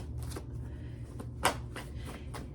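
A deck of cards is shuffled by hand, producing a quick series of soft riffling bursts with one sharper snap, close and quiet, with no talking.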